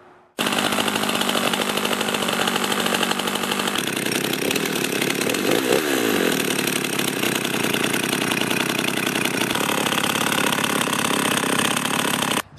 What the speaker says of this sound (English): notice how the chain will turn when the chainsaw is idling